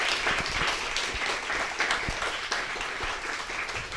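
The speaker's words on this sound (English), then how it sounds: "would you give her a quick round of applause?" An audience gives a speaker a round of applause, a continuous, busy patter of many hands clapping at moderate volume, with a few sharper individual claps standing out from the wash.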